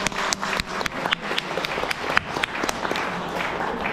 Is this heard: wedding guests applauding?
yes